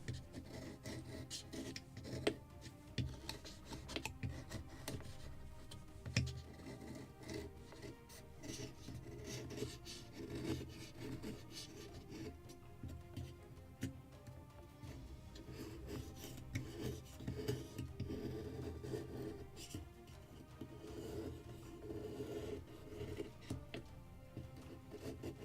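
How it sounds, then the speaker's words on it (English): Steady rasping of a file rounding the edge of a wooden plank on a Midwest kit model of a Muscongus Bay lobster smack, continuous back-and-forth strokes close up for the whole stretch, with no talk. "I have to round this edge of this plank in the end"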